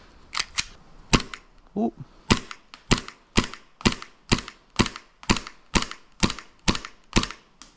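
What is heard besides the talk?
airsoft gun shots at a target 75 feet away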